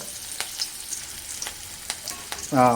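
Onions frying in a pan for egg thokku, a soft steady sizzle broken by occasional scraping stirs, with a brief louder clatter at the end.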